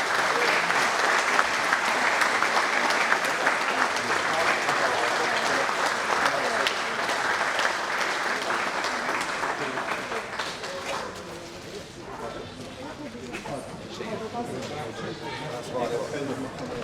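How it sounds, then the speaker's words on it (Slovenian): Audience applause at a firefighters' day event in the Slovenske Konjice municipality, Slovenia: loud, dense clapping from a large crowd that thins after about ten seconds into softer scattered claps and murmuring. "Zdaj pa mislim, da si vsi zaslužijo en velik aplavz."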